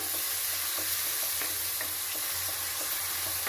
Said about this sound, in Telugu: 2 టమోటాలు తరిగి పెట్టుకున్నాను. టమోటాలు వేస్తాను.